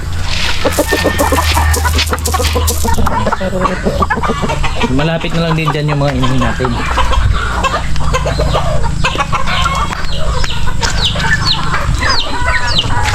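Tethered farm chickens, kept tied up because they fight, cluck and squawk densely and close by throughout, with a person speaking over the birds.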